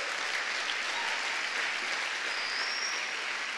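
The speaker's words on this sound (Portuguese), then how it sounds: "Você pode aplaudir o Senhor por essa palavra?" Congregation applauding during a church service, a continuous even wash of clapping heard from a little distance, steady and unbroken with no speech on top.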